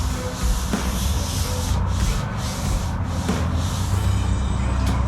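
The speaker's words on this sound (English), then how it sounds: "A little excess glue removal." Excess glue is wiped off a wooden whelping box panel, a close, steady rubbing with several repeated strokes along the wood surface, alone without speech.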